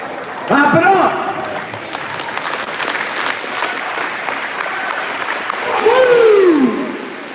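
A large high school crowd claps steadily at a pep assembly, the applause carrying throughout with loud cheers and shouts rising over it near the start and again near the end.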